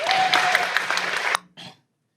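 An audience at a school district board meeting claps for a table of presenters, a steady burst of applause that stops abruptly, followed by a brief scattered clap or two before silence.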